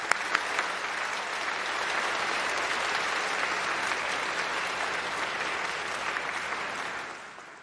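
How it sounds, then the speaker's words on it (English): A large hall audience at a university graduation ceremony gives an even, sustained round of applause that slowly tapers off at the close. "So let's give them a big round of applause again and say thank you."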